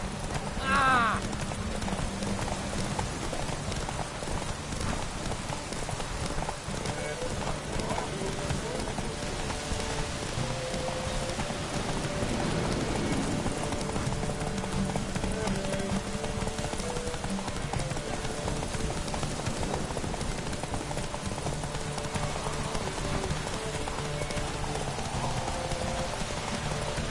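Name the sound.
horse Roach galloping in The Witcher 3 video game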